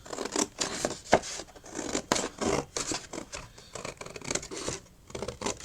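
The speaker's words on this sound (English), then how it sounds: "You can always tell how thick a card is by the sound it makes when you cut it with scissors." Scissors snip through stiff card in a steady series of crisp, close cutting strokes, each with a short rasping scrape.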